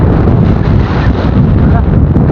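Steady, loud wind buffeting the microphone on a hanging bridge, a continuous low roar that runs throughout without a break.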